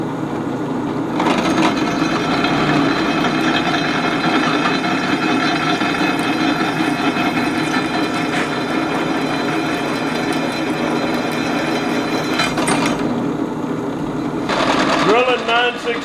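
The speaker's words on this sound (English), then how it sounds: "we're drilling it out so we can tap the 3/8 hole" A drill bores a pilot hole in steel for a welding vise, a steady high-pitched machine whine running for about twelve seconds and then stopping, followed by a brief rising squeal.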